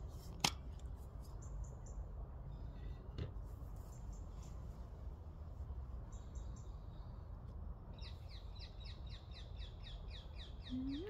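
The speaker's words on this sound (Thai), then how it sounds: "ฟังเสียงพี่นกร้องเพลงก็ฟัง" Birds calling in a backyard garden, with scattered chirps and then a quick run of repeated notes, heard faintly over steady outdoor ambience.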